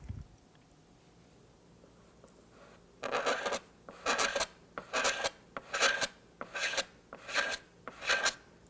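Razor blade scraping cured superglue (GluBoost) across a guitar finish to level the high spots: a steady series of about seven rhythmic, raspy strokes, close and fairly quiet, after a few seconds of near silence.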